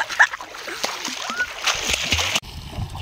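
People splash about in canal water, with sharp splatters and sloshing close by while voices talk over the commotion.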